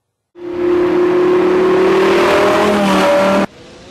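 High-performance imported sports car with 600 horsepower revving hard as it accelerates, a loud, close engine roar rising steadily in pitch for about three seconds before cutting off abruptly.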